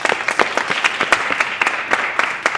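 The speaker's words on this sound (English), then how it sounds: "So again, a round of applause, guys." Audience at a live startup pitch event claps steadily, a brief burst of dense applause from a room of people at moderate distance.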